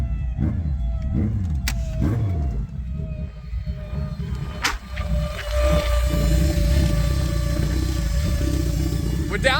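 Toyota Corolla fitted with a Hayabusa engine, struggling with low pressure, being revved: rising and falling engine whines over a loud, rough idle, with a few sharp spikes and voices talking nearby.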